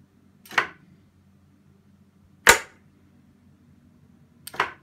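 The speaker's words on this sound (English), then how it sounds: "If you listen, you can hear the little blue relay going" A small blue relay switched by a 2N2222 transistor clicks three times, sharp close snaps spaced about two seconds apart over a quiet hum.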